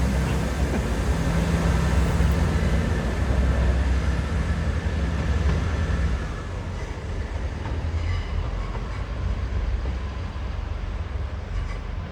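A diesel multiple unit train revs its engine, a loud sustained rumbling drone with rail noise that eases slightly partway through, heard from on board.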